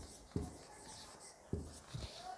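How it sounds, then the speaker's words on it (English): Pen writing notes on paper in a quiet room, with three short, distinct scratching strokes spaced apart over a faint steady background. "I'll write it down"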